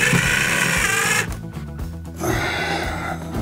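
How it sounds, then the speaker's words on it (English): A power screwdriver drives a screw into drywall while shelves for PC speakers are being built: a high, whirring motor whine that stops briefly, then starts again, loud and near with no talk. "Now this screw just goes into the drywall"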